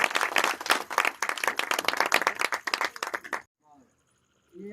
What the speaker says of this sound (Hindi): जोरदार ताली बजा दो भाई एक बार।